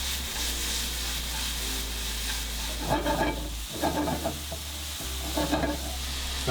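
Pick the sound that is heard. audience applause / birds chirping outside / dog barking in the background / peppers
peppers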